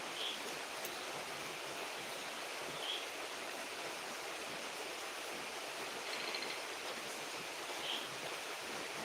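Steady rain falls during a monsoon downpour, a dense, even hiss with no clear breaks, heard alone without talk.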